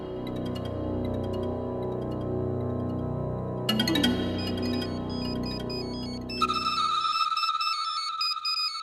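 A phone rings on an outgoing call, first a tonal melodic ringtone, then a brighter higher-pitched ringing pattern that takes over and continues to the end, clear with no talking.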